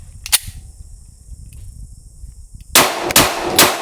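Three sharp, loud reports from a Glock 17 pistol fired from a 17-round magazine, close by, coming in quick succession after a long quiet stretch with one faint click near the start.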